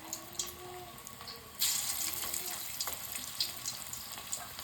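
Onion bonda balls dropped into hot oil, a fizzing sizzle that jumps louder partway through and keeps crackling steadily at close range, with faint background sounds.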